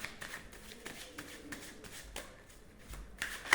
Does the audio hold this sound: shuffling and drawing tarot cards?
yes